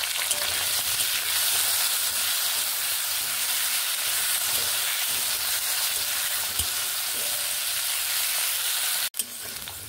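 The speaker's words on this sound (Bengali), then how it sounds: "আলুগুলো আমার প্রায় ভাজা হয়ে গেছে।" Potatoes fry in hot oil with salt and turmeric, giving a steady, close, continuous sizzle and crackle that fills the whole stretch, with a brief clatter near the end.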